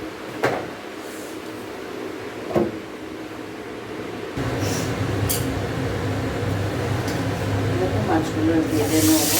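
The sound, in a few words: fish frying in oil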